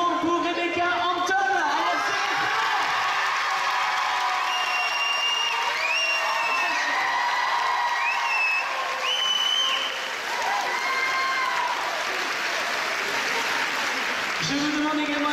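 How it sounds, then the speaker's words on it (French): Long, loud applause from an audience at a live event in Vichy, dense clapping mixed with cheers and whistles, with voices calling out above it throughout. "Je vous demande un tonnerre d'applaudissements pour Rebecca"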